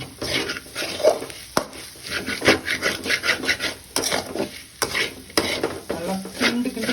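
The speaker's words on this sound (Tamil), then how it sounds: "நல்லா கிண்டணும்." Masala frying in a pan while being stirred hard, with repeated scraping strokes of a spoon against the pan in an irregular rhythm over a steady sizzle, close and fairly loud.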